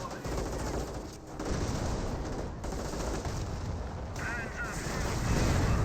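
Company of Heroes 1 battle: dense artillery and gunfire rumble continuously, with bursts of shots and heavy booms layered throughout, loud and busy, under a voice commenting on the action.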